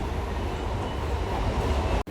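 A MEMU express train running between Narasapur and Rajahmundry gives a steady, loud rumble of wheels and carriage noise heard from on board, ending in a brief sharp dropout.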